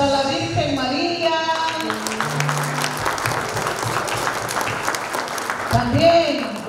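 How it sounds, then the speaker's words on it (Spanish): Congregation applauding during a Catholic vigil, steady clapping from a crowd sustained throughout, with music or singing tones at the start and end. "También aplausos para la Virgen María."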